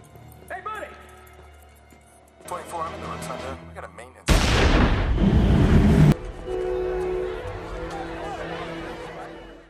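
A loud, sudden bomb explosion in a war film, destroying the White House dome, blasts in after a quiet stretch, a dense roar lasting a couple of seconds before settling into rumbling debris and ambient noise.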